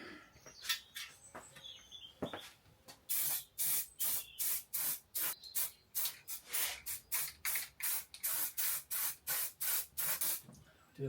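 Short bursts from a spray can apply a thick coat of filler primer to Harley-Davidson Sportster 1200 parts, a few scattered sprays at first and then a fast, regular run of hissing pulses, close up and without speech.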